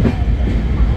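An LHB-coach Kanchanjungha Express rolls into Guwahati station with a steady, loud rumble of wheels and carriages, a continuous close rail clatter with no voices.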